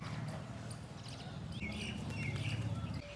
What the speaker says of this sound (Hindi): सुबह सुबह पंछियों की चहचहाट